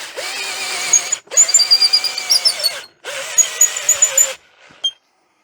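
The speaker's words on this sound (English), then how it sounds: "I used a great big long drill bit, even though it's not quite long enough to go right through both ends." A cheap, nearly flat cordless drill bores with a long drill bit in three bursts, a loud high whirring motor with a wavering pitch, the short pauses between runs quiet, the drill close by.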